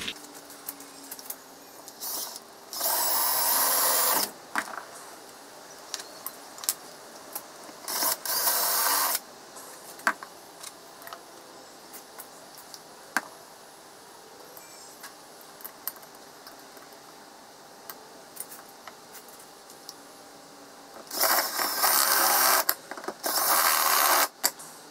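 Metal machining on a CNC router part, spot drilling then tapping a thread: a low background whir with sporadic clicks and ticks, broken by several loud bursts of harsh drilling noise lasting a second or two each.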